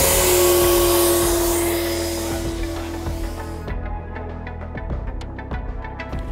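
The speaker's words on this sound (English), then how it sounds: "This is our pump we're going to use to inflate the showcase." An electric air pump inflates a CarCapsule car showcase with a loud, steady whooshing drone. The whoosh gradually drops and fades over several seconds, leaving a low hum punctuated by faint clicks and taps.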